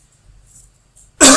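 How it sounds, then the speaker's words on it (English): One sharp, loud cough from a dry throat breaks out close by at the end, after near silence. "I'm just coughing because I'm talking so much with no break"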